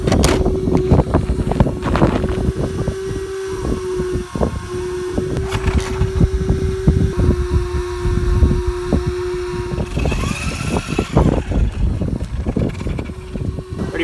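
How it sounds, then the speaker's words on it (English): Steady whir of a cooling fan on a Traxxas Drag Slash RC car, a sustained tone running close to the microphone amid gusty outdoor wind noise and handling bumps. "Can you hear that fan guys?"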